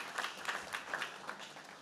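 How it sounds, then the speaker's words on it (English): Audience clapping at a speech by Tim Scott, a light, moderate round of applause with distinct claps, heard at some distance and fairly quiet. "I appreciate y'all clapping for her."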